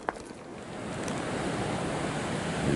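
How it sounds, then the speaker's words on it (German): Ocean waves surge and roar against the rugged northeast coast of Curaçao, a continuous broad wash that swells louder toward the end, with wind buffeting the microphone and no voices. "Die Wellen toben."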